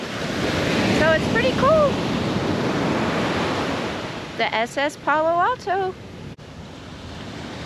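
Pacific surf rolls and washes steadily along the shore near the stranded SS Palo Alto, a World War I concrete tanker, as a continuous broadband roar with wind. A person talks over it throughout.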